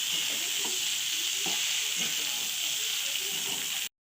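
Muthiya of fenugreek leaves and bottle gourd frying in a pan, giving a loud, constant hiss of hot oil that runs unbroken for about four seconds, with faint taps in the background, then stops.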